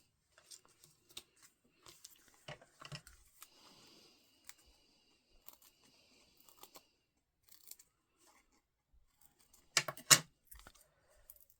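Scissors trim a thin paper edge on a handmade card, giving scattered soft snips and clicks with a louder cluster of cuts near the end; quiet, close, and without speech.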